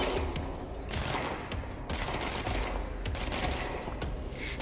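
Gunfire in a zombie video game, dense, rapid bursts of automatic shots rattling almost continuously in a loud, crowded mix.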